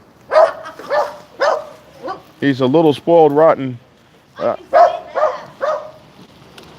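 A dog lets out a run of drawn-out, whiny barks in the middle of the clip, with a person talking close by before and after.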